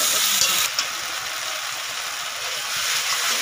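Spiced masala with chili powder and a splash of water sautéing in a pan for a potol chingri curry, a steady bright sizzle and hiss close up, continuous with faint stirring scrapes.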